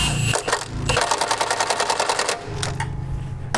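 Close mechanical clicking and ratcheting as a wrench tightens a bolt during a Kohler EFI long block engine install, with short rapid bursts of metallic ticks over a low background hum.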